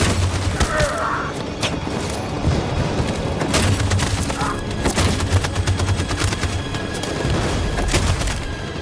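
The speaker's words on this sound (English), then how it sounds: "That machine gun is taking down everything that moves!" Loud, sustained machine gun fire in the Detroit: Become Human battle, with rapid bursts and thudding impacts layered into continuous chaotic combat noise, while faint voices sit underneath.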